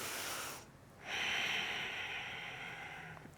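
Deep, slow breathing during a chair yoga session, a faint airy inhale followed after a brief pause by a longer, stronger exhale, close and alone.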